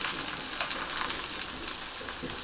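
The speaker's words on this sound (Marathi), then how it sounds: "आपण जी भोकं केली होती त्याच्यात तेल घालायचं आहे" Oil trickling into holes in an onion bhajani thalipeeth as it fries on a pan, producing a continuous crackling sizzle with small irregular pops, close and steady.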